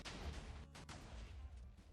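TNT cannon blasts in a Minecraft factions raid come as a quick run of deep, booming, rumbling explosions that overlap without pause, at fairly low volume.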